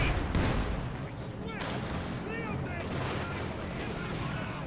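Gunfire and artillery exchanges in Company of Heroes 2, a World War II tank battle between Wehrmacht and Soviet forces: dense, continuous rattling shots and booms with a heavy low rumble, plus brief whistling streaks, steady and loud throughout.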